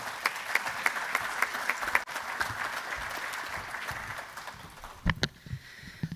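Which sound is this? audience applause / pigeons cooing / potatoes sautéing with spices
audience applause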